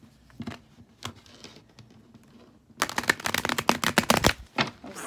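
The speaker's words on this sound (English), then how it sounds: "let's shuffle that up some more" Tarot cards are shuffled by hand in quick riffling bursts, soft scattered flicks at first, then a dense, louder flurry of rapid card slaps close by, with no talking.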